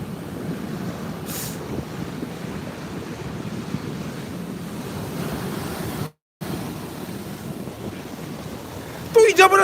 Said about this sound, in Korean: 태풍 때문에 어, 물에 못 들어가고 파도에서만 지금 놀고 있습니다